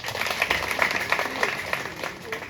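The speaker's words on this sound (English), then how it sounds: "Let's give her a round of applause." An audience gives a round of applause at a nationwide tour event, a steady wash of many hands clapping at moderate distance, with voices mixed in.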